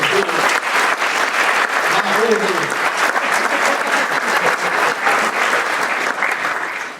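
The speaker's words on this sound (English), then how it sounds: "So give them a round of applause." Audience at an annual professional meeting giving a sustained round of applause, a broad, even crowd clapping that fills the room at steady strength and tapers off at the close.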